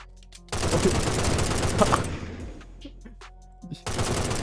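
Burst of rapid automatic gunfire in a Minecraft RPG server game as a player shoots the admin, loud and dense for about three seconds, then trailing off before a second burst starts.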